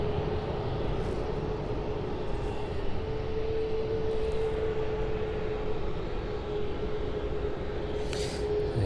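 A Ryanair Boeing 737 jet airliner idles and taxis at an airport on a cold morning. A steady engine drone with a faint whine runs throughout, heard from a distance.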